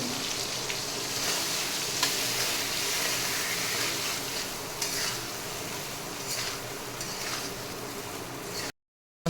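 A paste of salt, turmeric, chilli, cumin, coriander and ginger sizzles steadily in a hot pan for soybean kofta curry, with intermittent scraping strokes of a spoon against the metal throughout, then a brief silence at the end.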